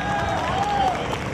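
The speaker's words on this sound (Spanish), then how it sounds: "Vamos a darle un aplauso para él." A crowd at a rural sheep shearing contest in Tenjo, Cundinamarca claps in a steady wash of applause, moderately loud, with voices mixed in.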